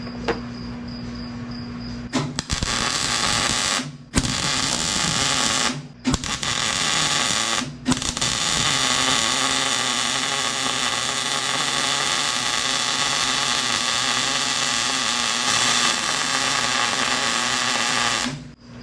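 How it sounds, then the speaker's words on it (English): MIG welding on a drive shaft for a 1965 Rambler American, a steady crackling buzz broken by short pauses between weld bursts, close and loud with no talking. "So I'm going to weld this just like I would an ordinary drive shaft."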